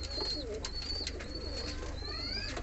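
Pigeons kept for sale in a Faisalabad loft coo in low, rolling phrases close by, with sharp high chirps from other birds layered over them and no speech.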